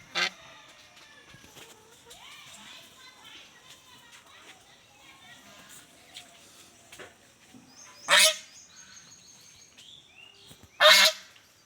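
A domestic goose honks in a village homestead, a few loud, sharp calls spaced apart over quiet rural background with faint birds and occasional speech.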